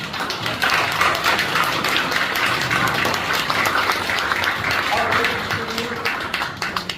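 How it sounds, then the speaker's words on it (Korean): An audience at an election-fraud seminar applauds a guest from Inha University, with steady dense clapping throughout and a few tonal voices or sounds near the end. "다시 한번 박수."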